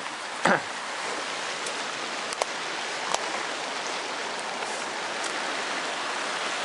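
Legs wading through a shallow, muddy brown river, the water running knee-deep over shoes, make a steady close rushing and splashing wash with a few sharper sloshes near the start.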